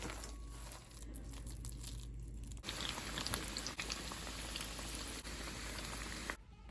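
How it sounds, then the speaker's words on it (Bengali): Peyaju fritters of khesari and masoor lentil batter fry in hot oil, a quiet continuous bubbling crackle like light rain that runs steadily with faint clicks and shifts. "বেগুনি ভাজা শেষ এখন পেঁয়াজুটা ভাজবো"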